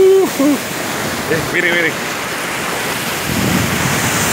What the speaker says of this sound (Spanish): el sonido de las olas, el sonido del agua